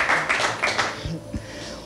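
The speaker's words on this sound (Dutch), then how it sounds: "Applaus." Studio audience on a TV quiz show gives a brief burst of clapping, loud and close for about a second before fading into a few scattered claps and faint background noise.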